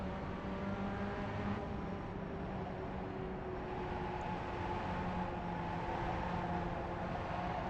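Pontiac Solstice race cars at Lime Rock in iRacing drone steadily with a constant buzzing engine hum and layered engine tones, close and unbroken, with no talk.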